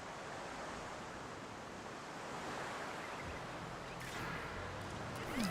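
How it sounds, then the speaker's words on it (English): Wind and surf of an approaching storm in a dinosaur park-building game, a soft, steady rushing roar of waves and gusts, faint and continuous, with a brief swell near the end. "Oh, got a storm on the way."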